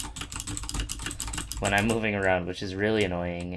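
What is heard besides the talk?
computer keyboard typing clatter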